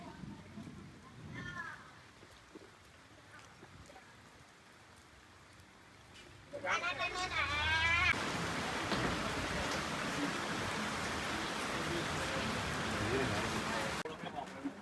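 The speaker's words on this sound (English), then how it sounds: "Oh, it's raining again." Rain starts pouring heavily partway through in Bangkok, a loud steady hiss of drops on surfaces, with voices and birdlike chirps audible beneath it.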